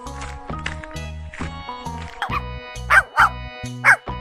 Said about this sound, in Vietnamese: Chú cún con.